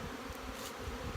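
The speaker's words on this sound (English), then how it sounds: "There's 2 truckloads of bees here. And they are absolutely flying everywhere." Honey bees swarm in flight around hives during spring, a faint, continuous buzzing hum with no other sounds.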